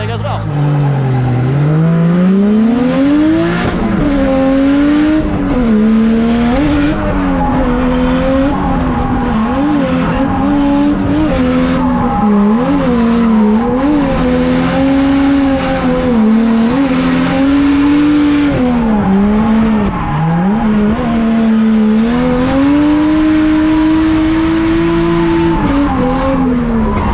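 Drift cars battling on a track, one facing an E36: engines roar and rev loudly and continuously, with rising and falling pitch and tire squeal throughout, close and dominant.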